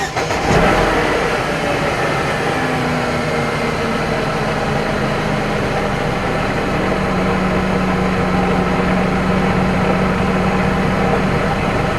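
A 2004 Mercedes C230 W203 cranks and catches, then settles into a steady, close idle with a low hum and a faint whine.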